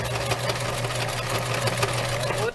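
A sewing machine runs a straight stitch with a backstitch while sewing a children's toiletry bag, a steady close mechanical whir with fast rhythmic needle clatter throughout, heard alone before stopping at the end.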